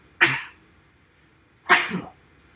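Two sharp sneezes about a second and a half apart, close and loud, with near silence around them.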